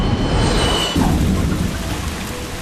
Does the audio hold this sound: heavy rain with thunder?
yes